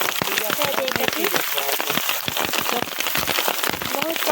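Steady rain patters on plastic sheeting and wet ground over a paddy field during rice transplanting, a dense continuous hiss with scattered drips, while voices chatter faintly underneath.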